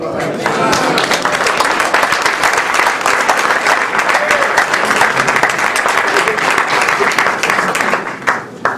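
A full room applauds at a tribute gathering honouring a man, sustained even clapping with crowd murmur mixed in, easing off just before the end.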